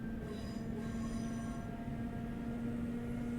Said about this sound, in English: Absolutely love driving this train though